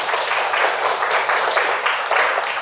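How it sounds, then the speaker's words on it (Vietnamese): A classroom of young children applauding together, dense continuous clapping with a slight pulsing rhythm, loud and close, filling the room with no one speaking over it. "thưởng bằng một tràng pháo tay các con"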